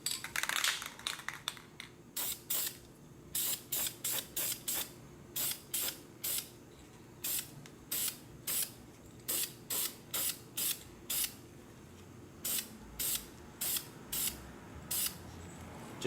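Short aerosol spray bursts laying light coats of paint on a disassembled S&W M&P 15-22 rifle magazine, about twenty brief hissing pulses in a steady rhythm, close and moderately loud, with no talking.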